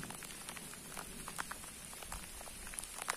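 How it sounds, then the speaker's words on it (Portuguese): Rain falls steadily on a hillside coffee plantation in the mountains, a soft continuous patter with scattered brighter drops striking nearby, faint and even throughout without any voices. "A chuva tá caindo, gente, olha aí"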